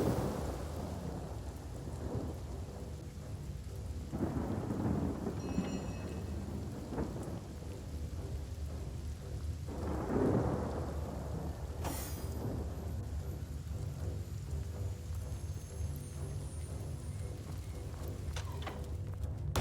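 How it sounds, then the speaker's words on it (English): Thunderstorm in the video game Divinity: Original Sin, with steady heavy rain hissing throughout and several rolling thunder rumbles swelling and fading, moderately quiet overall. "From drizzle to deluge."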